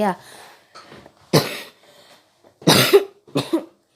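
Three sharp, close coughs, loud and separated by short pauses, with faint throaty sounds in between.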